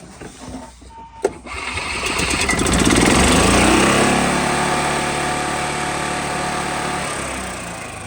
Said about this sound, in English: Right there, the engine's revved up and sounds better.